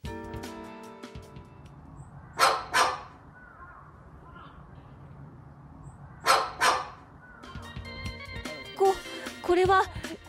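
A sulphur-crested cockatoo at a zoo imitating a dog's bark, two pairs of sharp barking calls separated by quiet, followed by a busier stretch of chattering squawks, with narration speaking in places.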